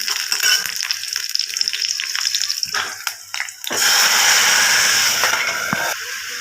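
Cooked lentils poured into hot oil with crushed garlic and slit green chillies for spinach dal, giving a loud, steady sizzle and splashing hiss that surges after a few seconds of stirring and clattering.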